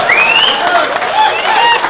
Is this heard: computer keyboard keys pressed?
no